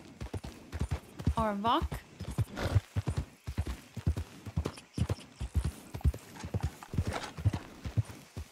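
Horse hooves clip-clop at a walking pace in Red Dead Redemption 2, a steady run of close, crisp hoof hits, with a brief whinny and someone talking over them throughout.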